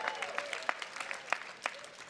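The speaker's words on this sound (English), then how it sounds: "Give yourselves another round of applause." An alumni day audience applauds in a continuous round of clapping, with a few sharper individual claps standing out, moderately loud and filling the room.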